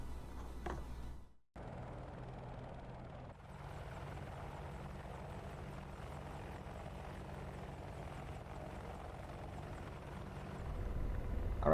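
AH-64D Apache helicopter cockpit in the DCS World flight simulator, a steady droning rotor and engine hum that holds evenly after a brief cutout, growing slightly louder at the end.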